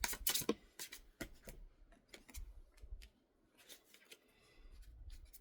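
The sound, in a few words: drawing an extra tarot card from the deck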